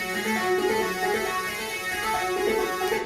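A fat, buzzy electronic synth plays an outro melody from a rendered MIDI file for electronic dance music, with thick sustained notes held continuously at steady loudness and no talk.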